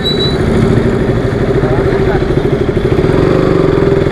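A KTM RC motorcycle engine runs steadily at low revs during a manual riding lesson, a close, even throbbing drone that continues throughout with no break.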